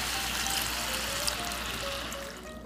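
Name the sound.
water poured into pot for chicken menudo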